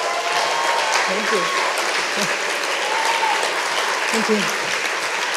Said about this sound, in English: So clap.